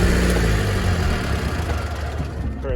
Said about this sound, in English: But now I got the generator. It's been running for about 5 minutes, and it sounds like it's about to die